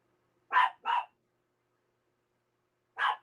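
Dog barks ring out in three separate bursts, two close together and a third after a pause, moderately loud in an otherwise quiet room with no talk.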